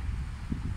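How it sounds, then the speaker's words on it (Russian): Low, steady wind rumble buffeting close to the microphone, with gusty swells and no voices. "Ветерок присутствует,"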